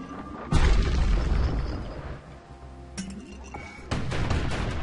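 A grenade blast from the video game Bastion, a sudden booming burst followed by a second sharp explosion a few seconds later, both loud and near, with debris-like clinks and rumbling tails under steady game ambience.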